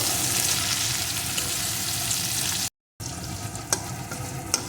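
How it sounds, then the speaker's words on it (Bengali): Chopped tomato fries in a pan with a steady, close sizzle. The sizzle breaks off briefly in a short silence, then resumes with a few sharp pops and crackles. "টমেটোটাও একটু ভেজে নেব।"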